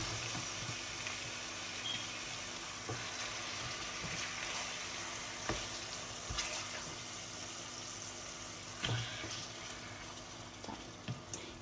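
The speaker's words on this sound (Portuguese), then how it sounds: "Nós vamos fritar ela, né? Vamos dourar." Chicken thighs fry with garlic in a pot, a continuous close sizzle and hiss with occasional pops and clanks of stirring, steady and moderately loud with no talk.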